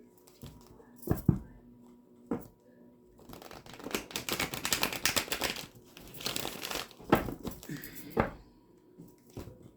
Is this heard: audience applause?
no